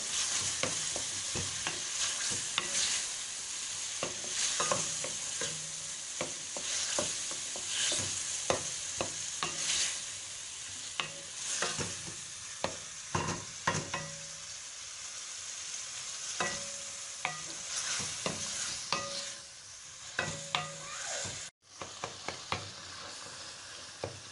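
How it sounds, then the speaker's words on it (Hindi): Peeled tomatoes for chicken jalfrezi fry steadily in a pan, with a continuous sizzle and repeated scraping strokes of a spoon stirring throughout. "टमाटरों को हमें अच्छी तरह से भून लेना है।"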